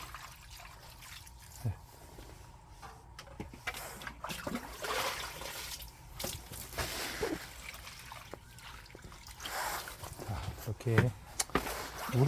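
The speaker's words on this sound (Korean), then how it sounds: "물 한번 시원하게 한번 주고" Water poured generously over freshly planted seedlings in a backyard vegetable plot, trickling and splashing steadily into the soil, with a voice heard faintly at times.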